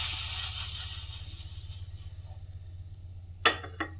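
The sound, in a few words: stirring chole curry in a pan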